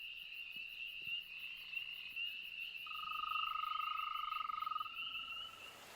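Frogs in the Smoky Mountains give a continuous high trilling chorus, with a second sustained trill joining partway through, steady and fairly close against a quiet background.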